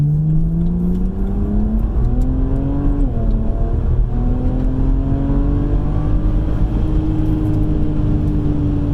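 A car accelerates up to highway speed, its engine tone climbing steadily through the gears with one brief dip before rising again, loud and close from inside the cabin, no talking.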